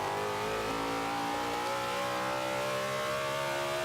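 A Z06 Corvette's engine revs hard and accelerates in Forza 5, a steady, loud, continuous roar with rising pitch that fills the whole stretch, with no voices.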